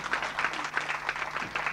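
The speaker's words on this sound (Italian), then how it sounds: "Facciamo un grande applauso a Giovanna." Audience at an event applauding a guest, with a brief burst of scattered clapping heard at moderate distance and a low hum beneath it.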